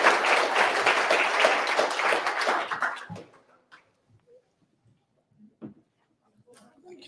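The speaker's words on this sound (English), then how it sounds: "So everyone, please, nice big round of applause for Kevin Sanderson." Audience applause at a business speaker event, dense clapping for about three seconds that stops abruptly, followed by quiet room noise and scattered small sounds.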